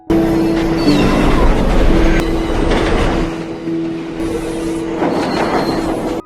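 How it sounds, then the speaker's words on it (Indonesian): A commuter train riding along its rails, with a steady loud rumble and rattle of the carriages, a sustained tonal whine running through, fairly close and continuous throughout. "Kemudian dia naik kereta menuju ke tempat kerjanya."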